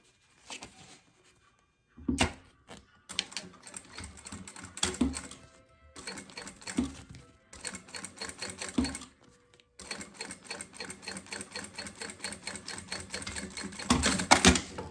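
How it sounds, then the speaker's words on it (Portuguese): Close by, a sewing machine stitches along a zipper edge on a synthetic leather wallet in repeated stop-start bursts of rapid mechanical clatter, with short pauses between runs. "E vai passar uma costurinha bem na beiradinha, tá?"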